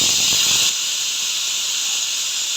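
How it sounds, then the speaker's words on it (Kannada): A pressure cooker on a gas stove, cooking sprouted green gram, lets out one loud, steady steam whistle that hisses continuously and alone for the full stretch, easing slightly partway through. "ನೋಡಿ 1 ವಿಸಿಲ್ ಆಯ್ತು."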